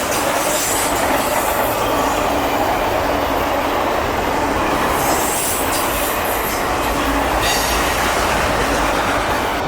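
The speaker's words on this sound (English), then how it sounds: "This train is flying." A fast CSX freight train hauling Conrail auto rack cars rushes past at close range in Germantown, giving a loud continuous roar of rolling wheels with rail clatter and occasional wheel squeal.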